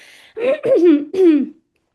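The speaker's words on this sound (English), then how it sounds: "Excuse me, I'm coughing." Three short, throaty coughs in quick succession, close and fairly loud, with a voiced, almost throat-clearing quality, followed by silence.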